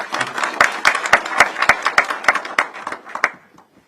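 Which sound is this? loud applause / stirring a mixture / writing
loud applause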